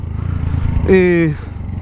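A Motrac M6 small motorcycle engine idles on a sidewalk with a low putter, then briefly revs higher for about half a second before settling back down, close by.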